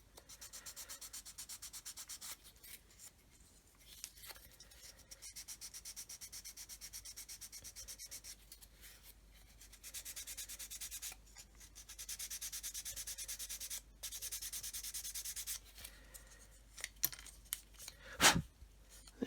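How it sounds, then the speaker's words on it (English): Sanding stick rubbed flat across plastic card on a 1/32 Kitty Hawk OV-10A/C Bronco model kit, a steady dry scratchy rasp in repeated strokes with brief pauses, close and fairly quiet, ending in a few louder knocks. "we'll sand everything together, keeping the sanding stick flat upon the plastic card"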